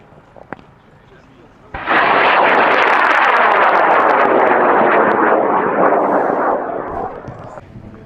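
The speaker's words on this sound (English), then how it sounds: "That's a great motor for that rocket right there," Sustained, loud roar of a sugar-propellant high power rocket motor at launch, bursting on suddenly after a brief quiet stretch and holding steady for about six seconds before starting to fade, with voices faint in the background.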